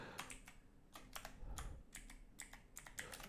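Someone types a query on a computer keyboard: soft, quiet keystrokes fall in irregular quick clusters, close to the microphone, with no talking over them.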